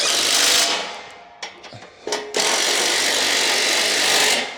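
Ratchet with an extension driving 17 mm bolts into a treadmill frame during assembly, a dense continuous rasping buzz that breaks off briefly in the middle with a few clicks, then resumes close and steady.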